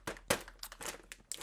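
Clear plastic parts bags for an ICM Sd.Kfz.251/1 Version B model kit crinkle and rustle close up in a string of short, uneven bursts as they are handled, with no talking.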